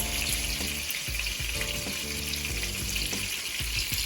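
Fish for Jamaican escovitch fish fries in a pan with a steady, close sizzle and crackle, with scattered small pops and stirring noises and no talking.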